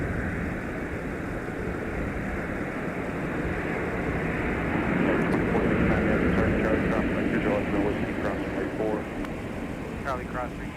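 A Delta airliner, arriving from Haneda at MSP airport in winter, rolls out on the runway after landing with a loud, continuous engine and reverse-thrust rumble that peaks midway, while people talk over it.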